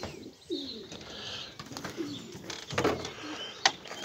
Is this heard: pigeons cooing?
yes